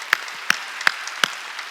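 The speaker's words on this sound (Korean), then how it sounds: "박수 치려면 세게 치라고 하는 거예요." Four loud, evenly spaced claps from a congregation in a church service held in a gymnasium, sharp single hits roughly every 0.4 seconds over quiet room tone.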